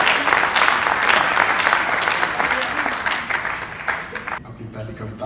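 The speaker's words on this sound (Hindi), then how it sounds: "एक बार जोरदार तालियां बजाएं।" Strong audience applause following a Hindi poetry recitation about Abhimanyu, loud continuous clapping from a large crowd that carries on for about four seconds and then cuts off abruptly.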